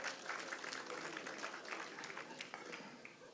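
Applause from delegates at a teachers' union provincial general council; faint, steady crowd clapping continues throughout, with some voices underneath.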